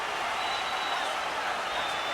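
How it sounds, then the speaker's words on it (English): A home crowd at a hockey playoff game fills the arena with steady, distant roar and noise aimed at a player, a continuous wash without pauses. "Smite's really hearing it from the home crowd right now"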